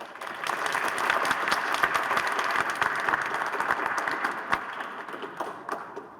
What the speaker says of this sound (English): So I want you to give the first round of applause to Carolyn.